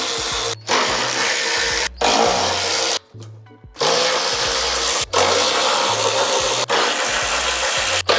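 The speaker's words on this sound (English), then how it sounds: "we're gonna take off the 8 bolts for the bash bars" A power tool runs in repeated loud bursts with short pauses between them, removing 12mm bash bar bolts from a 2020 Subaru WRX during an oil cooler install, each burst a close, harsh whir.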